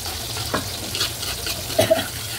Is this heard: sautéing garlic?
yes